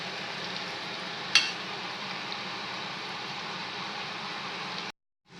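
Jalebi made from idli batter frying in a pan of hot oil, a steady close sizzle with one brief clink partway through before it cuts off abruptly.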